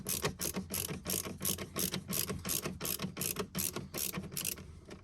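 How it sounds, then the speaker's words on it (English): Star-shaped screws turned out to free a panel, a steady run of quick ratcheting clicks repeating in even bursts, close and fairly loud with no talking. "So we'll unscrew those, and this panel should come right off pretty easily."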